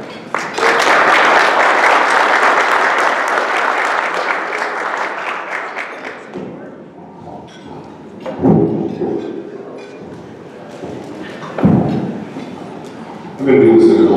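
Audience applause fills a meeting room as a speaker is welcomed at an ASHRAE chapter meeting, a dense clatter of clapping lasting about six seconds before fading, followed by a few thumps and the speaker talking.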